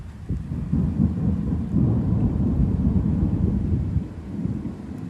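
Violent thunderstorm over Metz: a loud, sustained rumble of thunder rolls on for several seconds, close and heavy, with a faint hiss of wind and rain beneath and no voices.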